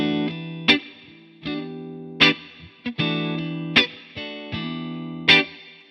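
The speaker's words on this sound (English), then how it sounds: "my guitar is going into a reverb pedal coming into the amp." Electric guitar played through a reverb pedal into a Supro Keeley Custom 12 amp at low volume: clean picked chords ring out one after another, each with a sharp attack and a gentle reverb tail, and no voices.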